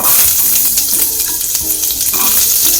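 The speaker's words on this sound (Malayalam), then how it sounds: "നല്ല ജീരകം ഒന്ന് മൂത്ത് കഴിഞ്ഞാൽ നമുക്ക് പച്ചക്കറികൾ ഇട്ട് കൊടുക്കാം ആദ്യം ക്യാരറ്റ്" Carrots tumble into hot oil with frying cumin seeds for pav bhaji, giving a loud, steady, close hiss of sizzling, with occasional stirring scrapes.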